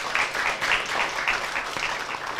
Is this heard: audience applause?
yes